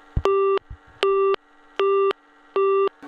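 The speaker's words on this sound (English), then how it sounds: "in which case it needs to send back busy tone" Busy tone from a Strowger step-by-step telephone exchange: four steady, evenly spaced beeps of about a third of a second each, loud and clean over faint line hum.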